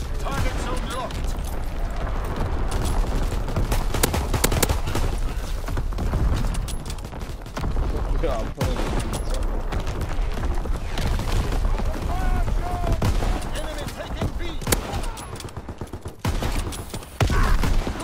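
Artillery barrages and rolling gunfire from Call of Duty WW2 multiplayer, a dense, continuous wash of booms and shots throughout, with game voice announcements over the battle.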